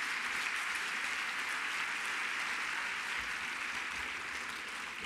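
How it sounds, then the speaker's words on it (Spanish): An audience at an academic talk on inclusive education and neuropsychology applauds a doctor, producing dense, steady clapping that holds at an even loudness throughout, with no voices. "les pido que sean tan amables de brindar un aplauso"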